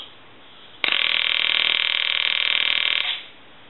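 A repaired PTT telephone converted to touchtone rings loudly on a test analyzer, one sustained buzzing ring of about two seconds that stops abruptly.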